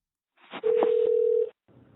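A telephone call connects to a celebrity ARS line: a short dialing beep sounds, then a steady electronic tone holds for about a second, followed by a faint low line noise.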